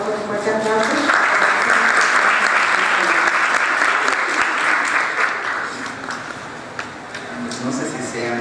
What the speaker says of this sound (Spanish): Le damos la cordial bienvenida, por favor, con un fuerte aplauso.